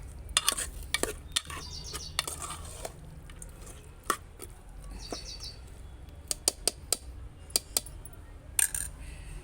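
Chicken curry is stirred in a pan, with irregular sharp clicks and taps of a spoon against the metal over a low sizzle, while birds chirp faintly in the background.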